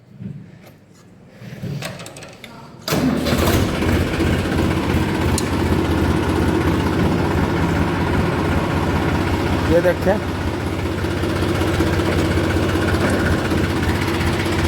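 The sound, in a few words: tractor engine starting and idling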